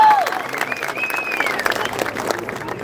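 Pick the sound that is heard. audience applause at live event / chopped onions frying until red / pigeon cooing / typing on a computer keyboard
audience applause at live event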